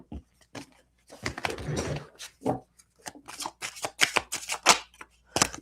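A deck of cards is shuffled close by in several short riffling bursts separated by brief pauses, crisp and papery, with no talk over it.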